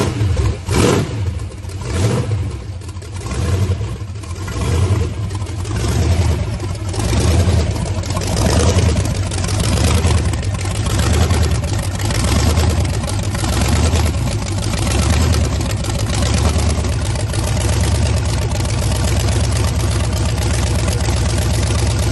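The newly finished Ardun engine of a 1933 three-window coupe runs loudly and steadily for a long stretch, rumbling with a slight rhythmic pulse.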